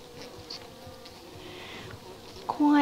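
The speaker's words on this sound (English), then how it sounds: "It's a fairly quiet little hive." Honeybees in a small queenless four-frame nuc hive give a steady, quiet hum with faint buzzing throughout, close by and alone, ending in a brief louder noise.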